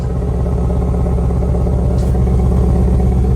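Close, loud exhaust note from a stock 2024 Ford Mustang EcoBoost Premium, a steady, throbbing engine drone with even rapid pulsing held throughout, no talking over it.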